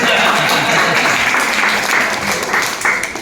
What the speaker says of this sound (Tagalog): Bigyan ng 1 milyon palakpak yan.